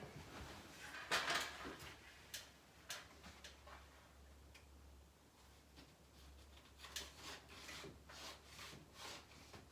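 A blade trims wallpaper tight into a door frame, giving soft, close scraping and rubbing strokes with small ticks and taps scattered through a quiet room.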